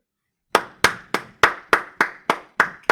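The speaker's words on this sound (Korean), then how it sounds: "박수 쳐주시겠어요?" Audience members clap together at a lecture-style tutorial: nine sharp, evenly spaced claps in a steady rhythm, close and distinct, following a short silence, with no voices.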